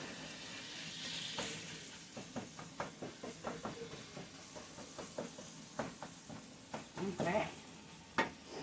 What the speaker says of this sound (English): Take a moment to stir up my ground beef over here.